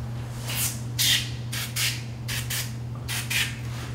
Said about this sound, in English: now we're going to put a little spray